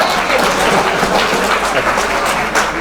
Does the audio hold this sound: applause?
yes